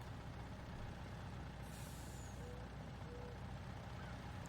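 Big WorkStar dump truck in Farming Simulator 19 releases its air brake, a short bright hiss standing out against a steady, loud diesel engine drone that continues throughout.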